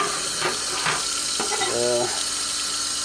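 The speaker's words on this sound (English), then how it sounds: "As I rinse these off, I set them on the other side of the sink to drip dry." Running water from a sink tap as small metal and plastic sewing machine parts from a Singer Model 337 are rinsed, a steady near splash with brief knocks and clinks of parts in the sink.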